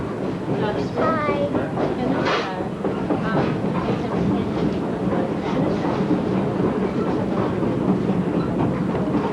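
A train rumbles steadily along the rails with a continuous clatter and roar, loud and close, with faint voices blending into the noise.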